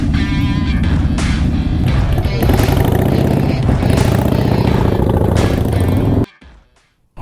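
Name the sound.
many motorcycles running at a bikers' event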